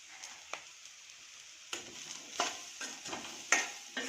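Bitter gourd, already fried, stirred in a pan with kasuri methi: a light, steady sizzle under repeated scraping stirs and soft clinks of a spoon against the pan, close and moderately quiet, with no talking.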